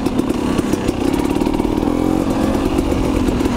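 A KTM 250 XC enduro motorcycle ridden through desert terrain, its engine loud, close and continuous, buzzing steadily throughout with slight shifts in throttle and no talking.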